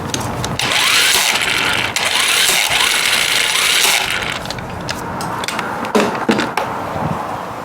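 An impact wrench hammering on the flywheel nut of a Chinese scooter, a loud continuous rattling burst lasting several seconds, then lighter mechanical clatter, close up with no speech.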